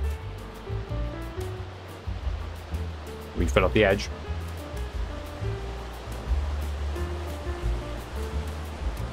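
A waterfall in the video game Ark: Survival Evolved gives off a steady, rushing wash of falling water beneath a speaking voice, with a brief burst of louder game noise partway through.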